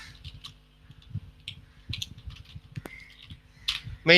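Code being typed on a computer keyboard: a run of quick, close key clicks with uneven rhythm and short pauses, heard alone with no talk.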